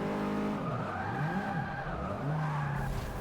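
Engine drone and tire skidding from a front-wheel-drive hatchback racing in the video game Forza Motorsport 6, a steady loud motor note with squealing slides and shifting pitch throughout.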